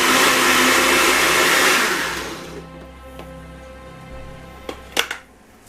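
An electric mixer whirs loudly, blending keto Yorkshire pudding batter, then winds down and stops, followed by a few clicks and knocks as it is handled.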